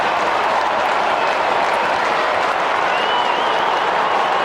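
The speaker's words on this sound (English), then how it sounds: "Listen to the crowd." Football stadium crowd at an AFL match, Geelong against Melbourne in 2005, roaring after a goal; a dense, loud, sustained wall of cheering and applause with no break.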